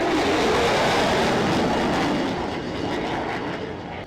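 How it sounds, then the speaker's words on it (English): An F-22 jet engine throttled back to minimum while coming in to land in the flight game F22 Total Air War, a steady loud broadband roar that eases slightly toward the end, with no voices. "you can just put your throttle down to the minimum setting, and the plane nearly lands itself almost"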